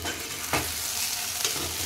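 Potatoes for an aloo fry sizzle steadily in a pan, with two distinct scrapes of stirring breaking through the constant frying hiss; no voices.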